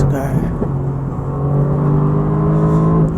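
A Mercedes-AMG GT R sounds on the Nürburgring Nordschleife at close range, its engine giving a steady, loud tonal drone with a small lift in pitch, heard from inside the car.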